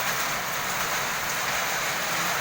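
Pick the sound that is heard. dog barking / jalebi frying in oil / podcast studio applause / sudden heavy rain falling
sudden heavy rain falling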